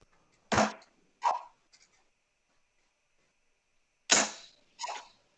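Darts thudding into a dartboard during a casual league match, two sharp impacts close together, a long pause, then two more, alone with no talk.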